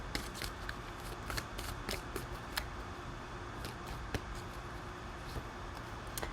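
Tarot cards shuffled by hand in quiet, a steady run of soft riffling with crisp snapping clicks scattered throughout, close and fairly faint, no voices.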